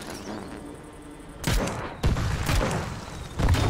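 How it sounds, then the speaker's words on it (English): Gatling cannons fire in the Trailmakers building game on a fully automatic build, sending out a few loud, heavy bursts spaced apart over a steady mechanical background. "I don't know how fast do these things fire"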